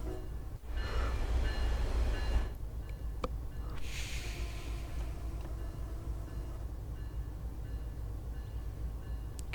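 MBTA commuter rail train on the Worcester line running in Train Sim World, with a steady rumbling drone of motor and wheels throughout, loudest in the opening seconds, with a brief hiss and clatter partway through and no talking.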